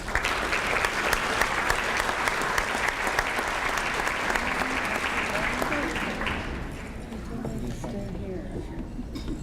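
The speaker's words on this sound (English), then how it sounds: "Because we have a round of applause for them" Sustained, full applause from an evening event crowd for a presenting sponsor, a thick continuous roar of many hands that fades toward the end, with talking audible over it.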